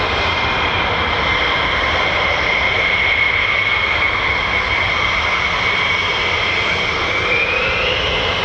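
A US Air Force F-15 fighter jet roars loudly and continuously at RAF Lakenheath, its engine holding a steady, broad tone with a high whine that rises slightly near the end.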